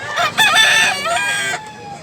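A rooster crows loudly and close by, one long strained call lasting under two seconds, with no one speaking over it.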